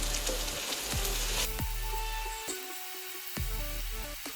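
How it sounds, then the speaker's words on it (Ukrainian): Cut pumpkin frying in a pan over medium heat, a steady loud sizzle with a few sharp clinks and scrapes of stirring throughout. "Тепер до нашої сковорідки додаємо гарбуз, який ми щойно нарізали. Додаємо вогонь до середнього і обсмажуємо протягом 4 хвилин."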